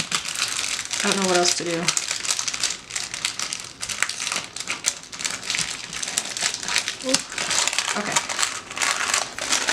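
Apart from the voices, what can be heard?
ripping stickers off a happy mail package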